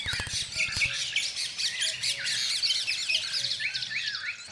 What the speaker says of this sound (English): Thousands of birds arrived and they flew up and covered the sun.